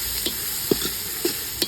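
Onion fries over a high flame in a pan for an egg biryani, giving a steady hiss with a few quick stirring taps.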